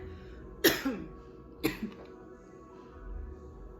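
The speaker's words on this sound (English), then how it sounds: "This cough has not been doing all this the whole reading." Two sharp coughs about a second apart, close and fairly loud, against a quiet room background.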